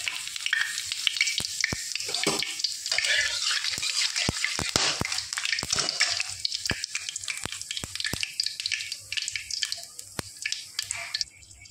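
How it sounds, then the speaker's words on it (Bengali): Whole cumin seeds, bay leaves and dried red chilies crackle and sizzle in hot oil, a dense steady frying hiss dotted with sharp pops throughout, close and alone. "তেল গরম হয়ে গেছে, ফোড়নে দিয়ে দেবো জিরে, গোটা জিরে, তেজপাতা আর শুকনো লঙ্কা।"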